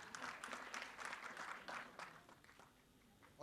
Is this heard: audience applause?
yes